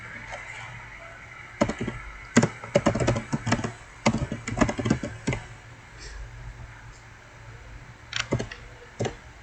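Irregular bursts of clicking keystrokes on a computer keyboard as SQL join syntax is typed, close and fairly quiet, with short pauses between runs of keys and no talking.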